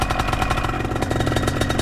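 A warmed-up BlackHawk Titan 210 paramotor engine idles close by, a steady fast pulsing putter with a clattery mechanical edge and no break.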